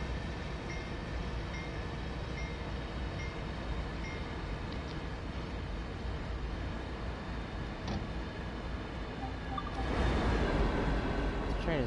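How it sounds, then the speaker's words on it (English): A passenger train in Train Sim World 2 on the Peninsula Corridor slows under emergency braking, with a dense, steady rumble and rolling noise that swells louder near the end while a voice talks softly. "Train is taking forever to stop."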